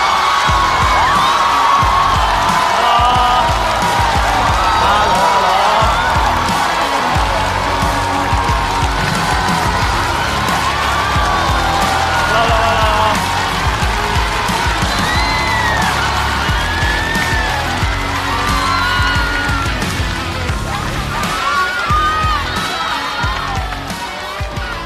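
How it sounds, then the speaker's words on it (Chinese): Audience at a Chinese stand-up comedy show applauds and cheers as a guest is introduced: a loud, sustained crowd roar with whoops and yells lasting about 25 seconds. "让我们掌声有请"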